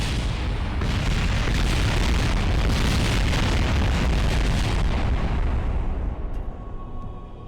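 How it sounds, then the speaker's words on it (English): A loud, sustained explosion roars in the space game Kerbal Space Program, a dense rumbling blast lasting several seconds before tapering off. "It's gonna explode."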